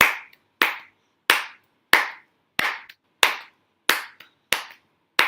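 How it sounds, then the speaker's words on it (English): Nine slow, evenly spaced hand claps ring out one at a time with short silent gaps between them, each clap sharp and close with no voices, part of a gentle adaptive clapping practice during a singing session. "Usually, it would be a simple thing, just a clap"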